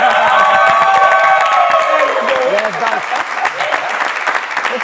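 A crowd bursts into loud, close applause mixed with cheers and raised voices, then thins out into scattered clapping and chatter.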